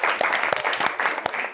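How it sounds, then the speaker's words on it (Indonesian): A classroom group claps for a group of students, a brief burst of fairly loud, irregular handclaps with a few sharper individual claps standing out. "Yang lain tepuk tangan dulu"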